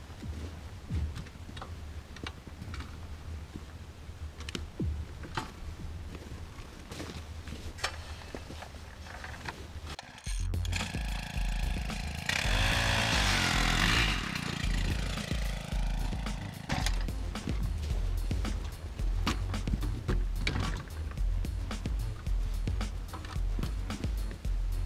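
A powered ice auger engine runs loudly, revving up into a roaring drill through lake ice beside an ice-fishing sled, then settles into a steady mechanical drone.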